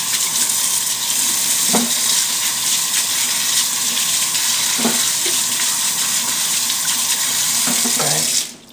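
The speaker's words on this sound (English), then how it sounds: "I like to just gently wash them, make sure there's no debris." Tap water runs steadily into a sink while vegetable greens are gently rinsed by hand, a loud, continuous splashing rush with a few soft knocks of leaves and fingers, no talking.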